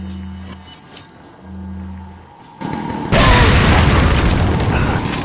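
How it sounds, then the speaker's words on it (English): A grenade goes off in the GameCube edition of Resident Evil 4, a sudden loud boom that becomes a roaring, sustained blast rumble, following tense low game tones. "I usually counter that with a grenade"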